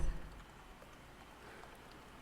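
Soft, steady rain falls as a faint, even hiss with no voices, holding constant throughout.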